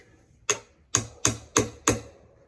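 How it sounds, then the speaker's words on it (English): Five sharp metallic taps of a hammer on a flat pry bar wedged behind a column base cap, close and loud, spaced irregularly about half a second apart with brief ringing decay. "Maybe with a little tap of the hammer."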